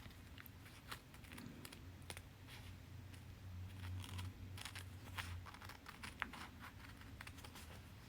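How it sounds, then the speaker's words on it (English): Repeated crisp snipping and clicking of fabric scissors cutting cloth at an irregular pace, close and fairly quiet, with no voices. "So I'm going to cut it out now with my fabric scissors."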